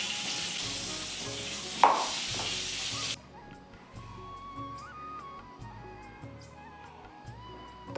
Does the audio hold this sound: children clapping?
no